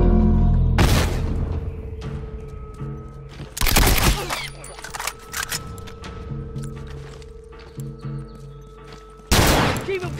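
A bomb detonates in The Last of Us, a loud close blast followed by gunfire-like bursts and further heavy booms in a chaotic game battle, with a voice speaking briefly amid the noise.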